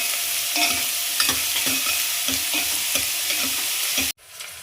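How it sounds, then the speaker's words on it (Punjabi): Coarsely chopped onions are stirred in a frying pan for a malai matar mushroom gravy: a continuous loud sizzle broken by rhythmic scraping strokes of the spoon, cutting off abruptly near the end, with no speech. "ਨਾਲ ਹੀ ਪਿਆਜ਼ ਪਾ ਦਾਂਗੇ ਇਹ ਵੀ ਆਪਾਂ ਨੇ ਮੋਟੇ ਹੀ ਕੱਟੇ ਨੇ ਚੰਗੀ ਹਿਲਾ ਲਾਂਗੇ"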